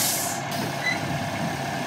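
International Blue Bus in a Roblox school bus game giving a hiss of air brakes with reversing beeps over a steady engine drone, loud and close, no talk.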